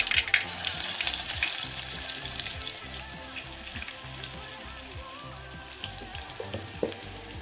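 Garlic sizzles in hot oil already spiced with popped mustard seeds, cumin and asafoetida for a drumstick sambar tempering: a dense, steady frying crackle with occasional stirring scrapes, close and continuous, no voices.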